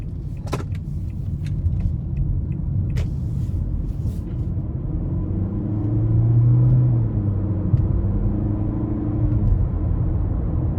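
A 2020 Nissan Altima 2.5 SL pulls out of a parking lot, its engine and road noise a steady low rumble from inside the cabin that swells briefly as it accelerates, with a few faint clicks near the start.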